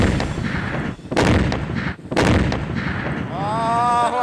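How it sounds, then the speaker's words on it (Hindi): Explosions in a building demolition in Afghanistan arrive as two heavy, booming blasts about a second apart, each loud and close. A rising, wavering tone follows near the end. "एक धमाका होता है और ये इमारत जमीन दोज हो जाती है"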